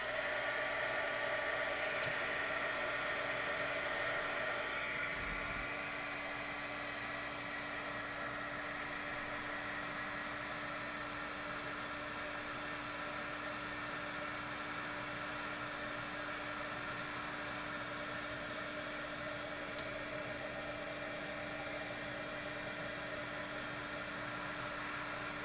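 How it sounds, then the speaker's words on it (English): A heat gun blowing steadily during a watercolor stamping craft session: a loud, constant rushing hiss with a faint motor hum underneath, unbroken from start to finish. "I'm going to heat up my heat gun"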